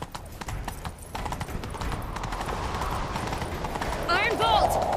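Horses gallop in The Witcher 3 with steady clip-clop hoofbeats throughout, joined by a horse's whinny near the end, set under game ambience and voices.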